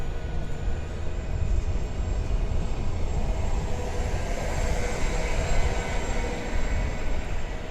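The Baltijos kelias passenger train pulls out of Šiauliai railway station, a continuous broad rumble of wheels and engine rolling past at moderate distance, with no voices over it.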